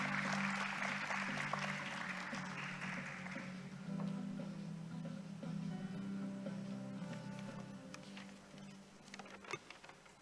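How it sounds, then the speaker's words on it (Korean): Audience applause at the opening ceremony of an international conference, a broad wash of steady clapping in a hall that fades over the first few seconds under a low hum. "여러분 원장님을 따뜻한 박수로 맞아주시기 바랍니다"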